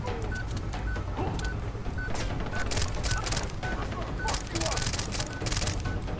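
Gunfire in the open-world shooter Far Cry 3, repeated rapid shots over steady background game noise, with a regular beeping tone ticking along underneath.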